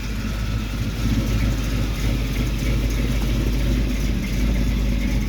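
A steady, loud engine rumble from an old Dodge truck running at a constant idle, close by, with no talking.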